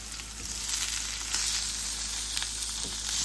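Garlic sizzles steadily in a hot pan alongside salmon fillets, a close, continuous crackling fry with no voices over it.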